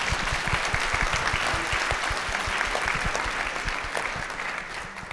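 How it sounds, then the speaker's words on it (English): An audience at a mental health panel discussion applauds the panelists: steady, dense clapping from many hands, sustained throughout and fading slightly at the end. "a round of applause for our panelists"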